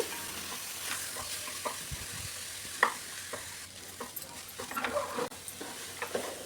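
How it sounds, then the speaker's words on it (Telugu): Rice frying in a pan with mint leaf paste while being stirred, a steady soft sizzle broken by scraping and clinking strokes of the spoon, close and fairly quiet. "పేస్ట్తో పాటు మనం ఈ బియ్యాన్ని కూడా కలుపుకుంటూ వేయించుకోవాలి"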